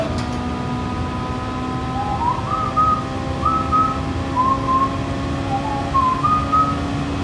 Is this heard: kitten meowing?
no